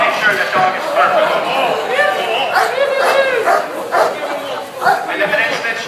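Police dog barking and yipping during a public handler demonstration at the Eastern States Big E fair, excited repeated barks and whimpers close by, mixed with a voice talking over them.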